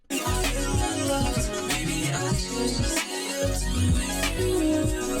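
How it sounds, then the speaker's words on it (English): Dense electronic music with a swirling, sweeping flanger effect that gives the sound a shifting, jet-like wash over steady beats. "That's a flanger, so it makes it sound all weird."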